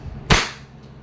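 A single sharp crack from an EMG Pit Viper airsoft pistol fired close by, followed by a faint mechanical click, with quiet surroundings.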